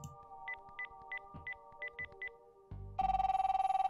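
Telephone keypad dialing tones from the video game Darkside Detective: about a dozen short, clear beeps in quick uneven succession, then a loud buzzing line tone, with no talk.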